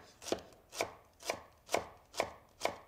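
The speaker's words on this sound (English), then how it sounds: "Now that I have the celery root sliced, I'm going to use my knife to cut it into a thin julienne." A knife cutting celery root into thin julienne on a board: six crisp, evenly spaced chops about half a second apart, close and clear with no talk.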